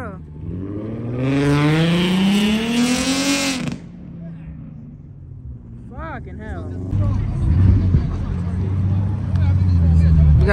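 A car fitted with a loud trumpet exhaust revs hard and then pulls away at a car meet takeover in Garner Park, its rising engine note dropping off before more engines rumble in, with people talking nearby.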